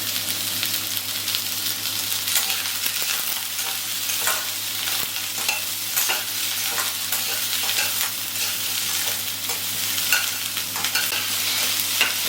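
Onion with ginger and garlic frying for butter chicken gives a loud, dense sizzle that holds steady, broken by frequent scraping stirs of a spatula against the pan.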